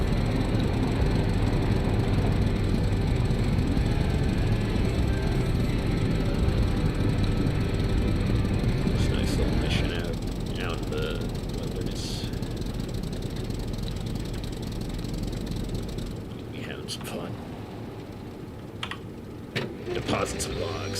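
A tractor engine in a survival video game drones steadily and loudly throughout, a dense low rumble that thins slightly partway through, with a few faint clicks and knocks near the end.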